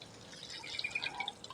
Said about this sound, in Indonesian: Kita siram seperti ini teman-teman